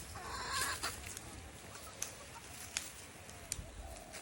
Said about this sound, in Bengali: মুরগিগুলো আপন মনে তারা পোকামাকড় খুঁজে খুঁজে খাচ্ছে